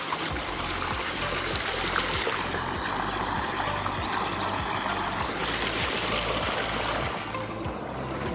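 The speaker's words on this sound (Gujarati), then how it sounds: "આપણે કેનાલનો નજારો જોઈ લો. આ જો પાણી આવે છે." Water rushes steadily along an irrigation canal that feeds tobacco fields, a continuous loud flowing wash with a low rhythmic churn underneath, heard alone with no voices.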